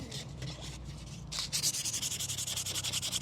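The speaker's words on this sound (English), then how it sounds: "sand away till most of it's gone. You're just trying to get it smooth." A Rogue One rebel helmet prop is sanded smooth with 240-grit paper, giving close, steady back-and-forth scratchy rubbing strokes in a quick even rhythm that grow louder and more regular toward the end, with no talking.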